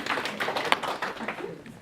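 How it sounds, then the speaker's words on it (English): An audience claps for a woman invited up to speak at a Couch to 5k running talk, irregular close hand claps in a short, uneven burst. "Hey, give her a clap, come on."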